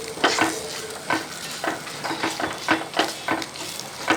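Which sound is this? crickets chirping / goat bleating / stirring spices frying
stirring spices frying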